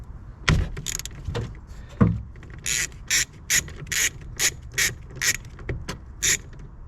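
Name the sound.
deep-well 13mm socket wrench ratcheting out a bolt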